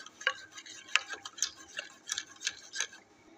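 A spoon stirs a yeast and sugar mixture in a bowl for bun dough, giving a series of light, close clinking taps and scrapes in an irregular rhythm with no talk.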